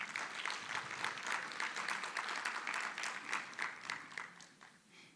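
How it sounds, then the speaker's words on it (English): An audience at a BOM finale ceremony claps. The applause is dense and sustained, with a lively crackle, and it tapers off toward the end. It is moderately distant. "Let's give them a good round of applause"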